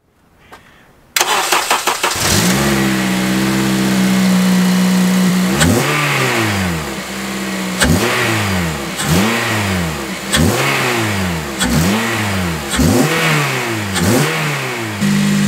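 A Honda Civic Type R FN2 engine, fitted with a new budget induction kit, starts, then idles steadily with repeated revs rising and falling in a regular rhythm, close and loud.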